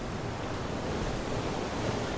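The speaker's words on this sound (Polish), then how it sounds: "Wiatr słabnie." Stormy sea in the survival game FAR: Changing Tides, with a dense, continuous roar of crashing waves and gusting wind at a steady, loud level.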